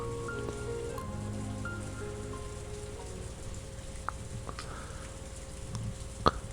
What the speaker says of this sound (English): Surrounded by an ice-cold drizzle that had started falling at some point